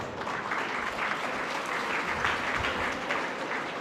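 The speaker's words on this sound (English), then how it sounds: "Please clap for him." Audience applause at a college graduation day ceremony, a sustained wash of many hands clapping at moderate distance, steady and even throughout.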